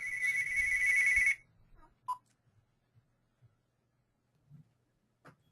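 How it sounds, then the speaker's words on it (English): A phone ringtone trills loudly for about a second in an office during an online webinar, then cuts off, leaving a quiet room with a few soft clicks and bumps. "I need to kill that phone"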